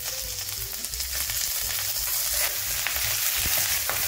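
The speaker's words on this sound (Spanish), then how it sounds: "Y lo que vamos a hacer cuando esté caliente es sellar nuestros muslitos de pollo." Chicken thighs sear in hot olive oil over high heat, a steady, loud crackling sizzle filling the whole stretch with small popping bursts and no voices.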